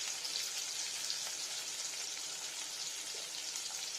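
Chopped onion and garlic sizzle steadily in hot oil for a jackfruit curry, a dense, even crackle close by with no voices over it.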